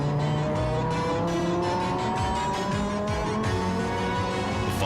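An Audi five-cylinder turbocharged Quattro race car on a qualifying run through the streets of Long Beach, heard from on board as a loud, continuous engine drone with rising and falling revs through gear changes.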